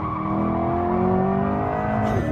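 A Corvette E-Ray hybrid sports car drives hard, its electric motor giving a steady rising whine with layered tonal hum over road and tire noise, loud and close throughout.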